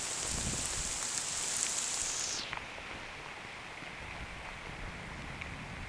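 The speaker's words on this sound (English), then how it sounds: "A lot of water fell last night and it's still raining." Steady rain falls during a walk in Lamlash on the Isle of Arran, a dense continuous hiss of drops that shifts and drops slightly in tone partway through, with no voices.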